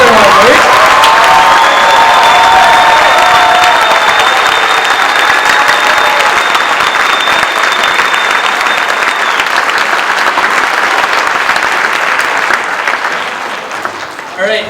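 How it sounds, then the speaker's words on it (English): After a summer band concert, an audience gives band students a long, loud, steady round of applause with some cheering, sustained throughout before tapering near the end. "Let's give these students one more giant round of applause for all their hard work."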